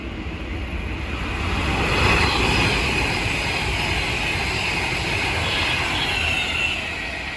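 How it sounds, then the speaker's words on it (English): Avanti West Coast Class 390 Pendolino electric train running between Birmingham New Street and London Euston passes close by, a loud steady roar of wheels on rail with a faint high squeal throughout. "The next train to pass by is going to be an Avanti West Coast Class 390 Pendolino from Birmingham New Street to London Euston."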